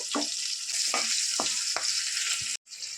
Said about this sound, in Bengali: এটাকে হালকা লালচে করে ভেজে নেব